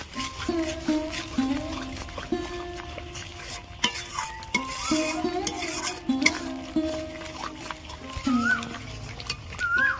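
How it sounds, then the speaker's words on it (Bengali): Spoon stirring egg korma masala with salt and sugar in a pan, with scraping and clinking strokes over a soft sizzle, steady and close, while a voice talks intermittently. "লবণ, চিনি ভালো করে কষিয়ে নেব।"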